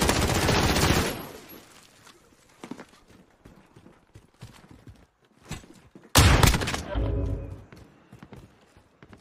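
Gunfire in the Warzone video game sounds as rapid bursts of shots, loud near the start and again around six seconds, with scattered quieter shots and movement noises between.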